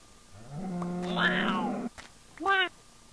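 A cat meows in the video game Minecraft with Neko's Cat Mod installed, first a long drawn-out mew and then a shorter one, loud and close.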